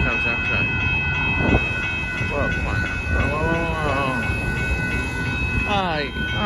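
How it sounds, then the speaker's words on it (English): Northbound Amtrak Texas Eagle passenger train passing a road crossing in Austin, Texas, a loud steady rumble of wheels on rail with a constant high ringing tone over it, and a person talking beneath the noise. "Here comes Amtrak."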